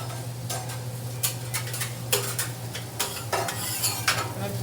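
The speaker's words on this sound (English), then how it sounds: "You can hear the sizzle." Ham frying in hot oil in a café kitchen sizzles steadily up close, broken by sharp clinks and scrapes of a utensil against the pan several times.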